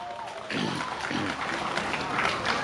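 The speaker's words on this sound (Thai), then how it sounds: "ขอเสียงปรบมือครับ" Crowd applause swells around the ring at a black bull buffalo contest in Kalasin, Thailand, starting abruptly and continuing at a steady level, mixed with background voices.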